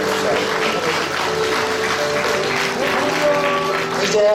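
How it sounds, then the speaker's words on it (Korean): Steady, dense applause fills an indoor hall at a church lay organizations' general assembly as an award and prize money are presented, with a voice speaking over the clapping. "네, 큰 박수로"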